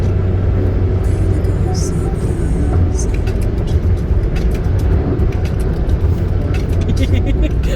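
A car is driving along a road, heard from inside the cabin as a loud, continuous low engine and road rumble with a few faint rattles, and a person talks over it.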